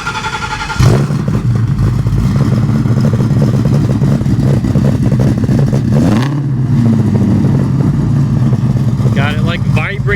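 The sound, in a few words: 1967 Mustang supercharged Coyote engine starting and revving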